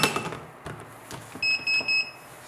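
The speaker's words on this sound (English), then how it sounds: "So now the pager can beep, shake, and flash." An AGJ wireless restaurant pager beeps in a queue paging system: three short, bright electronic beeps in a quick pattern, close and clear, following a few faint clicks and handling sounds.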